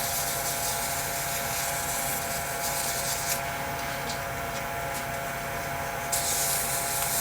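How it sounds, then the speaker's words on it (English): Sandpaper rubbing a resin acrylic pen blank spinning on a lathe, a continuous close hissing friction with steady machine hum underneath and slight shifts in pressure. "I'm going to come in here and just sand this down"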